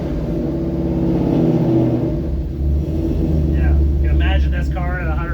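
A Ford Mustang Boss 302S race car with a Coyote engine and special race mufflers idles and revs in a deep, steady rumble, with people talking over it.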